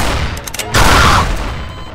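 Gunfire in Garry's Mod comes as a rapid burst of shots with a louder blast in the middle, close and harsh, sitting over a noisy background.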